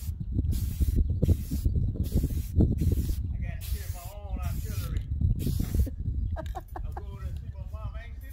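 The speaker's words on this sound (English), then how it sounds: "I was wondering why you was just standing there with the spray paint can" Aerosol spray can of taillight tint being sprayed onto the taillights of a G-body Cutlass, heard as a series of loud, close hissing bursts separated by short pauses, with some mumbled talk in between.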